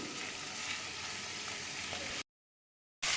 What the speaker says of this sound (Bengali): আমি একটু ভালো করে কষিয়ে নিই